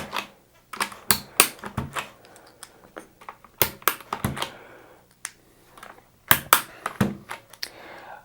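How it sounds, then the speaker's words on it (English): Keycaps snapped off a GK61 mechanical keyboard with optical red linear switches, giving a series of sharp, close plastic clicks and pops in irregular bursts with short scraping handling noises between them. "So just going to pop off this bottom row here, these 4 keys."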